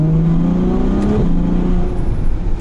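A Ferrari 812 Superfast V12 screams loudly up through the gears in race mode on a wet road, its pitch climbing and dropping sharply at a quick shift, heard close from inside.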